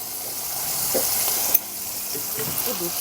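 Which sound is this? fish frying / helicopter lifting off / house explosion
fish frying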